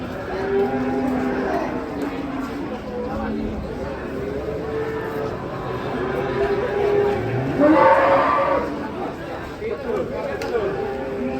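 Cattle moo repeatedly, long low calls close by, mixed with chatter from people nearby.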